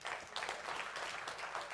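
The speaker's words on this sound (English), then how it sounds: "That also needs a hand of applause." Applause from the audience at an annual general meeting, a brief, fairly distant spread of many hands clapping steadily and quietly.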